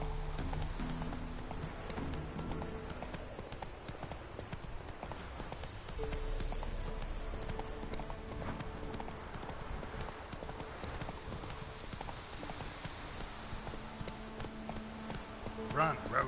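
Roach the horse galloping in The Witcher 3, rapid loud hoofbeats drumming continuously over a dense game soundtrack for the whole stretch, with a brief surge at the very end.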